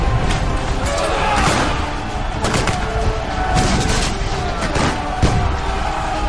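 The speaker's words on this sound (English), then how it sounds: "Bayonets clash and gunshots fire at point-blank range in hand-to-hand fighting." Hand-to-hand fighting at the 1812 Battle of New Orleans, with British troops storming a rampart: close gunshots and clashing bayonets crack and slam irregularly through a dense, continuous battle din.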